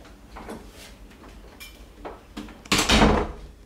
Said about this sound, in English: Yeah, you can close your door.